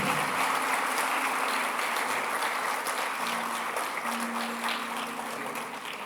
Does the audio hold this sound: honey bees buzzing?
no